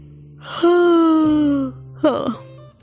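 A woman's long, drawn-out yawn in a Hindi audio drama: a single voiced sigh that slides slowly downward for about a second, followed by a shorter breathy exhale, close and clear with no speech.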